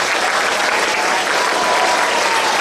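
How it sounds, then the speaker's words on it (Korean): A school audience gives loud, sustained applause at the close of a special alumni lecture at a Korean middle school. The clapping is dense and continuous, with no voices over it. "진짜 가슴에서 나온 뜨거운 박수"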